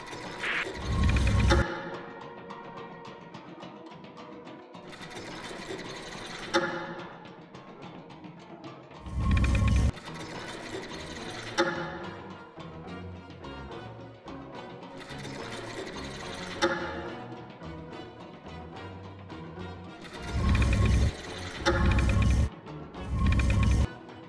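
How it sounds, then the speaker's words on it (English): A lever is pulled in the video game We Were Here Together, setting off a whirring, clattering mechanism that runs in bursts with loud heavy thumps between them and a sustained grinding churn. "Can you pull the lever, Wesley?"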